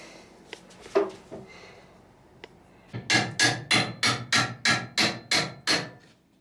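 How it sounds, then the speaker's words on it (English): A few scattered knocks, then a hammer strikes about ten times in a quick, even rhythm, each blow sharp and close. "we always give it a couple of taps with the hammer"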